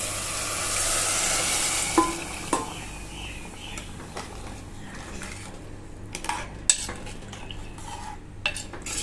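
Chicken stock goes into a pot of Kolhapuri pulao with rice and chicken pieces, followed by sizzling and stirring, with scattered spoon and pot clinks over a low bubbling hiss and no voices.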